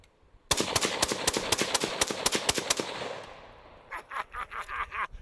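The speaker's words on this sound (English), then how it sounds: "SIG Spear chambered in 277 Fury, and I'm loaded up with, I think, about 10 rounds of 113 grain full metal jackets" A SIG Spear rifle chambered in 277 Fury fires 113-grain full metal jacket rounds outdoors: about ten loud, sharp shots come in quick succession, then the echoes fade into quieter rumbling thumps.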